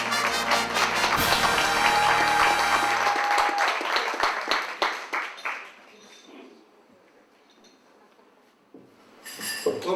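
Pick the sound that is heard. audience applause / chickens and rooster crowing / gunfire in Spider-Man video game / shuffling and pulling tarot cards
audience applause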